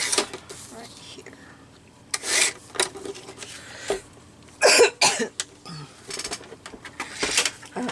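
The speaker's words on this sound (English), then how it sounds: "I'm so sorry, I keep coughing." Repeated short coughs from a person near the microphone, several bursts spaced over a few seconds, set among quiet rustling and scissors trimming paper at a junk journal stamping and collage craft table.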